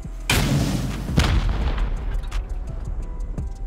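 In a video game, an HV rocket blasts a turret, giving two heavy booming explosions in quick succession followed by rumbling debris and a few scattered smaller pops.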